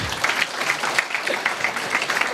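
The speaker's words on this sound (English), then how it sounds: "So a big clap for him." An academy audience at a Teachers' Day celebration gives a big round of clapping, dense and steady many-handed applause filling the room, loud and close, alone without speech.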